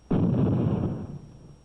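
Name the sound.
letter bomb explosion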